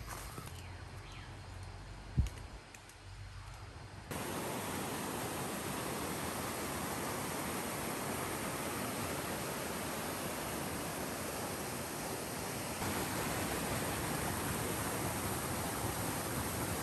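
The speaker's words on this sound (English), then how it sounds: "I thought the waterfall was pretty cool." A small jungle waterfall on Koh Phangan rushing in a steady broadband hiss, close and constant for most of the stretch after a quieter opening with a single brief knock.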